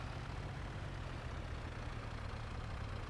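Tractor engine idling in Farming Simulator 25, a steady low rumble that holds unchanged and close throughout, with no talk over it.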